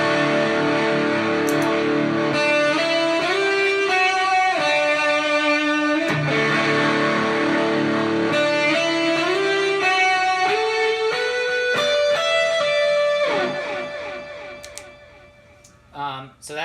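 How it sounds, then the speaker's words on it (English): High-gain electric guitar played through a Boss MS-3 multi-effects unit with compressor, hall and spring reverb in a worship setting: loud, continuous distorted chords and lines ringing for about thirteen seconds, then fading out into a brief tail. "So that's my high gain setting. Basically, all three of these pedals are on."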